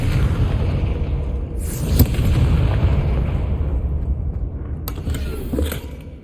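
Fire spell blasts in Hogwarts Legacy: deep booming bursts over a rumbling low background, with sharp impacts around the middle and near the end, each trailing off into a fading roar.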